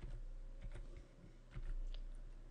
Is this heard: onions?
no